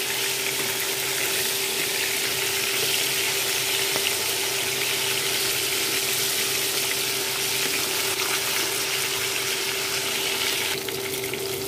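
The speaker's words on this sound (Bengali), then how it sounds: "এগুলোকে একটু ডিপ করে একটু বেশি করে ভেজে তুলে নিব।" Hilsa fish heads deep frying in oil give a continuous, dense sizzle that stays steady and close throughout, with no talking.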